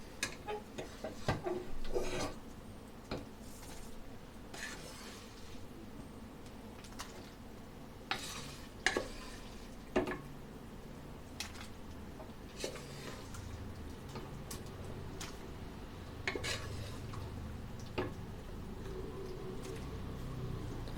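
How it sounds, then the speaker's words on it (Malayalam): A spoon stirs cooked mung beans into a pot of oats, with quiet intermittent scrapes and sharp clicks against the pan spread over about twenty seconds. "നമുക്ക് നന്നായിട്ടൊന്ന് മിക്സ് ചെയ്ത് കൊടുക്കാം."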